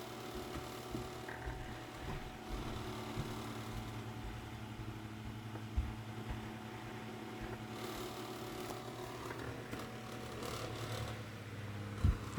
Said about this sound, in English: And of course the cage is rattling a little bit.